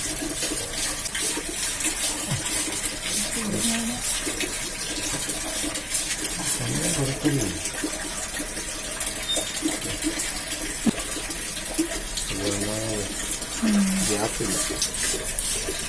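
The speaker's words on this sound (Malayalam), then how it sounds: "ആ അത് ഇങ്ങനെയാണ് നമ്മൾ നനച്ചു കൊടുക്കുന്നത്" Mushroom grow bags are misted with a water sprayer, giving a steady hissing spray throughout with intermittent thumps and handling noises, while a voice talks faintly in the background.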